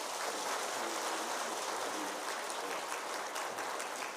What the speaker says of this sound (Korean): 뜨거운 박수로 축하합시다